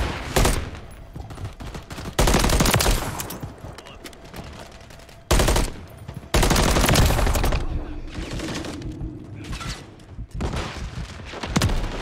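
Rapid automatic gunfire in Modern Warfare 3 multiplayer, loud and close, coming in long sustained bursts separated by brief pauses, with a bit of game ambience between volleys.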